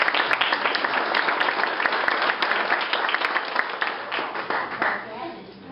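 A community audience at an Irish heritage event claps steadily and fairly loudly for an honoree, a dense sustained ovation that thins and fades toward the end.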